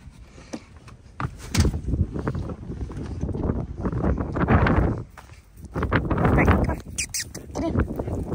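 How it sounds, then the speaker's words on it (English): Gusty wind blows outdoors on a hay farm, buffeting the microphone in strong rumbling surges that rise and fall, with brief voices and footsteps mixed in. "Can you hear the wind?"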